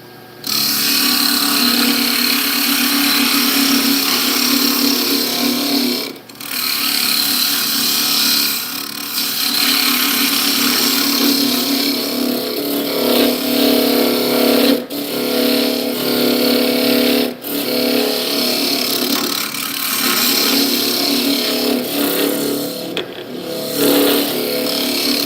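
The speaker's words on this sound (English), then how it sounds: "I'm gonna use the round carbide from Simple Woodturning Tools." A round carbide tool cleans out the inside of a turned piece on a wood lathe, giving a loud, continuous scraping whir with a few brief dips where the cut pauses.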